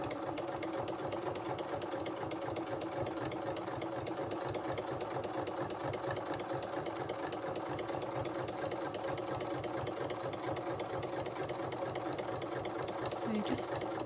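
A sewing machine attaches bias binding to a dress seam allowance, its needle chattering in a fast, even rhythm throughout at moderate loudness, with a voice talking over it.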